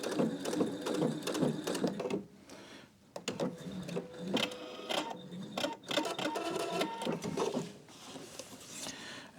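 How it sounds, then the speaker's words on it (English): A sewing machine stitching across a bulky jeans seam, a fast close mechanical whirring and clatter with brief pauses between bursts of stitching. "now we're going to just sew a little ways"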